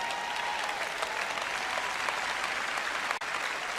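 Applause from a sermon audience, steady and loud with dense clapping throughout, briefly dipping near the end.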